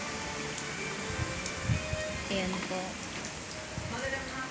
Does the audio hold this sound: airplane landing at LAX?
no